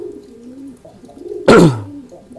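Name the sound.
crested pied pigeon cooing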